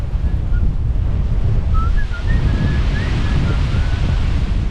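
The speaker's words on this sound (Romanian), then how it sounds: "Asta este plaja rezervată turiștilor." Waves breaking on Guraidhoo beach in the Maldives, a continuous loud surf wash with heavy wind buffeting on the microphone and a faint whistle-like tone drifting over it.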